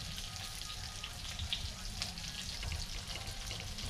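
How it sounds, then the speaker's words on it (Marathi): Rice-flour bhakri flatbread spread thin on a hot iron griddle, giving a steady close sizzle and crackle of cooking alongside a fish fry, continuous with no talk. "याला गरम गरम तव्यावरती आपल्याला करावं लागतं, सारवावं लागतं"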